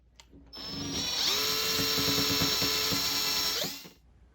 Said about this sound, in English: drill some pilot holes on this side and this side